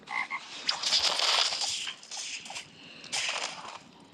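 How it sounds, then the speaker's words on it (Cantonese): Frog croaking from a creature in a video game, a loud raspy rattling croak repeated in a few pulses, close and alone without speech. "換隻青蛙過嚟咬人，"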